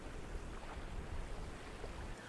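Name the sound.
ocean water crashing against rocks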